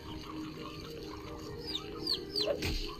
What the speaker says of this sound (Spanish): ¡Son pollitos! Hay que golpear a pollitos.